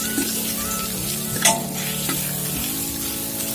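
Chopped ginger and garlic fry in hot oil with a continuous crackling sizzle, with one sharp spitting burst near the middle as they settle into the pan, under a faint steady hum.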